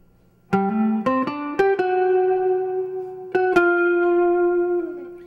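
Distorted electric guitar plays a short riff: quick rising picked notes leading to long ringing sustains, then a couple more struck notes that fade.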